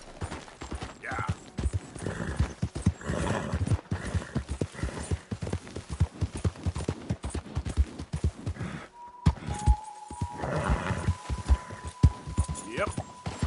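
A horse gallops in the Red Dead Redemption 2 video game, with rapid rhythmic hoofbeats throughout and a neigh, under a man's occasional spoken words.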